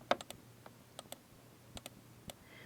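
Sharp mouse clicks on clips in a DaVinci Resolve 12 timeline while Alt is held, a handful of crisp isolated clicks spaced irregularly over a quiet background.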